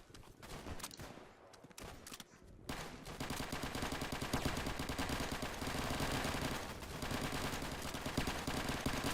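Rapid bursts of rifle and machine-gun fire from the Easy Red 2 World War II shooter on a Southern France map, sparse shots at first, then a dense, continuous loud fusillade.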